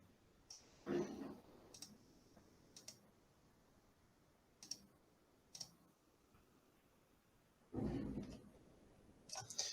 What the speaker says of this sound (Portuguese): Devemos clicar novamente 2 vezes com o mouse para poder desenhar